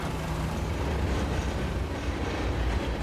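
A train running in the Transport Fever 2 video game, a steady close rumble of rolling wagons with faint rhythmic clatter, continuous and without talk.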